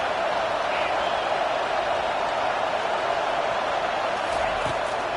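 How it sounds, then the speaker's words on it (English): Stadium crowd at a football game roars steadily through a third-down play, a dense, continuous wash of cheering and noise that stays loud and even throughout. "Big 3rd down as the crowd gets behind this defense."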